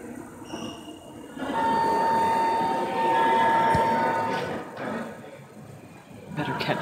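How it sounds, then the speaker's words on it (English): A train rolls past in a station setting, a steady loud rumble with a faint squealing tone that swells, dips and swells again before easing off near the end. "Better catch the train."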